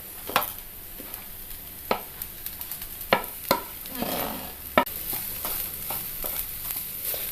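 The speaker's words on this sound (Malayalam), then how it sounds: "നമ്മൾ അരിഞ്ഞു വെച്ചിരിക്കുന്ന വാഴച്ചുണ്ട് ചേർക്കാം." Chopped banana flower added to a frying pan with a ground spice paste and stirred, giving a low sizzle under scattered sharp clacks and scrapes of a spoon against the pan.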